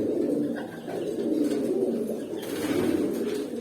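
Pigeon softly cooing near a coop with chickens close by, a low, steady throaty murmur that swells twice over a few seconds, fairly quiet and alone without talk.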